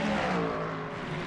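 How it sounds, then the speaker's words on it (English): A GT3 race car engine drones at high revs in Le Mans Ultimate sim racing at Spa-Francorchamps, running in a Ford Mustang's slipstream, a loud continuous engine tone with no speech. "Mission Wallace there sitting in the slipstream of that Ford Mustang"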